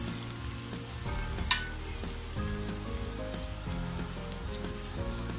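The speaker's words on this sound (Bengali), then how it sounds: "আমি চিকেনগুলোকে ভেজে নিচ্ছি।" Chicken pieces fry in oil over low heat for restaurant-style fried chicken, giving a steady, close sizzle throughout, partly under background music.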